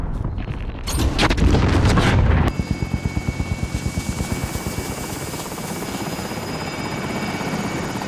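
Video game helicopter holding position for an extraction, a loud rhythmic rotor thump beating steadily after a short burst of heavy action noise, continuing alone as a close, sustained whir.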